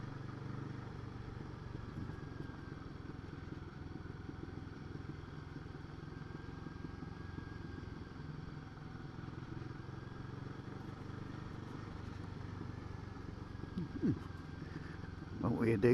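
A Royal Enfield Guerrilla 450 motorcycle rides over a bumpy road with a steady, muffled engine drone and wind rumble throughout, heard from the rider's position. A brief louder knock comes near the end.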